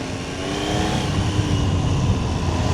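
A 2026 Triumph Trident 800 three-cylinder motorcycle engine revving up and holding a loud, rising roar, close by, with steady wind rush alongside.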